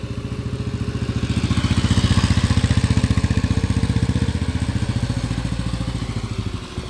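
A 1959 BMW R26 250cc single-cylinder motorcycle idles low and even. Its steady, rapid thumping pulses are close and loud for about seven seconds and fade slightly toward the end.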